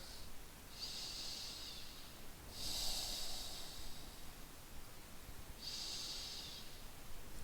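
Slow breathing held through a yoga hamstring and spinal stretch, three soft airy breath sounds spaced a couple of seconds apart, faint and close in a quiet room.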